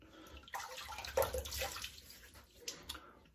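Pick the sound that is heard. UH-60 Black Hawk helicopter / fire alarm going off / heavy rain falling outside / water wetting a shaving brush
water wetting a shaving brush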